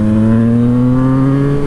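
A Yamaha FZ-09 motorcycle engine pulls hard under acceleration, its steady rising drone loud and close, heard from the rider's position with no talking.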